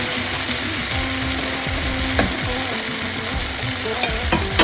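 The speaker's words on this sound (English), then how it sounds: "Potatoes are frying nicely here." Potatoes frying in a pan for chicken biryani, a steady close sizzle with occasional clicks and scrapes of stirring, no voices.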